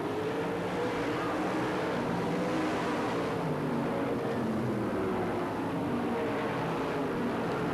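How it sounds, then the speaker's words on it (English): USAC/BCRA midget and supermodified race car engines roar continuously on a track, a dense loud blend of revving motors with no break across the stretch. "Ekberg continues to run hard and hot and heavy coming through the field."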